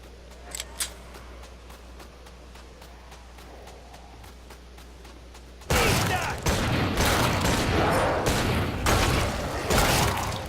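Gunfire in the video game Killing Floor 2: a quiet stretch of faint clicks, then a sudden loud, dense burst of rapid shots that keeps rattling to the end with no talking.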